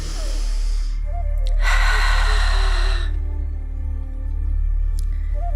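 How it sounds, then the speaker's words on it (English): Loud, ocean-like Ujjayi yoga breathing taken close up, with one long airy breath standing out over a steady low hum. "the Ujjayi breath is the ocean sounding breath"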